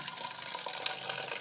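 Red rose-scented homemade floor cleaner pours into a bottle in a brief, faint, continuous liquid gurgle, heard close and alone.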